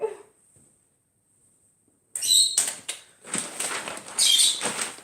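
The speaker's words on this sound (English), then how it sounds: "Just let me get some sellotape in here. It's a bit noisy." Sellotape pulled off the roll while wrapping a birthday present, starting after a near-silent pause with loud, scratchy ripping bursts that come in several uneven pulls, close up.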